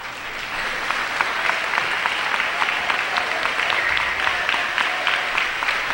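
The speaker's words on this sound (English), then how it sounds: "And a big round of applause for Stephanie Eubanks" A gym crowd at a 2008 women's high school basketball game between the NU Lady Miners and the Tracy Lady Bulldogs claps for a player coming off the floor, producing a continuous, moderately loud rattle of applause with a faint low hum underneath.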